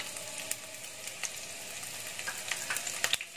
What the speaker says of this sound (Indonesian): Nah, kita goreng ikan terinya.